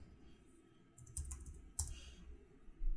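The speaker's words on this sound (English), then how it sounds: "we type in terminal" A few keystrokes tapped on a computer keyboard while entering a terminal command during a software installation on Windows 10, with scattered close clicks over a faint room hum.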